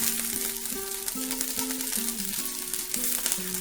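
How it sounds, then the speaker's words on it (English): Sweet onions toasting in a pan give a steady, close crackling sizzle with dense spattering pops throughout, accompanied by a faint tonal hum in the background. "Sweet onion. Get those toasting."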